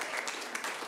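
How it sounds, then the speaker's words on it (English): Brief burst of audience applause at a game show, a steady wash of clapping that stays fairly even and moderately loud throughout. "Give Megan a round of applause"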